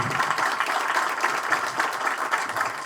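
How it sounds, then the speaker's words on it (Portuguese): An audience at a members' gathering breaks into dense, steady applause, many hands clapping together at an even level for the whole stretch. "Salva de palmas."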